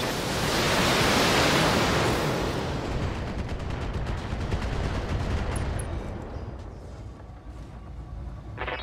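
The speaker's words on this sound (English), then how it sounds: "Firing everything I've got!" Weapons fire in the BattleTech video game as a dense, roaring barrage, loudest at the start and then slowly thinning into a lighter crackle of rapid shots near the end, with no voices.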